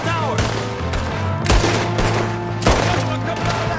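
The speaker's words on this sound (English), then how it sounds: "We got one shooting from the tower." Enemy gunfire in the Red Dead Redemption 2 video game, several sharp loud shots spaced a second or so apart, including fire from a tower, ringing over game ambience.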